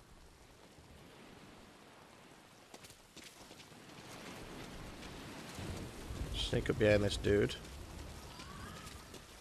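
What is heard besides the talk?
rain effect in video game Metal Gear Solid V Ground Zeroes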